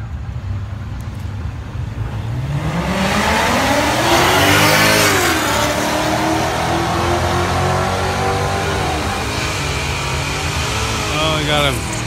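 Mustang drag racing cars at Music City Raceway, engines roaring and rising in pitch as they launch and accelerate down the strip. The sound is loud and sustained, with a crowd and an announcer audible underneath.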